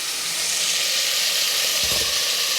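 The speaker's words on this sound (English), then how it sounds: "Going to add the tomatoes." Tomatoes hitting a hot pan of vegetables for vegetable biryani with green beans, a steady broad sizzle and hiss throughout, swelling briefly into a louder crackling burst near the end, close and alone.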